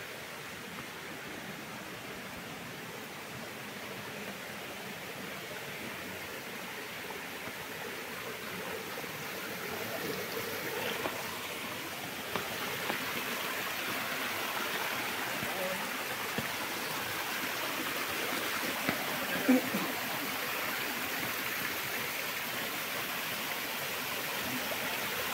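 A small waterfall on a forest cycling trail toward Paranapiacaba, a steady broadband rush of flowing water heard up close, continuous throughout with faint occasional clicks.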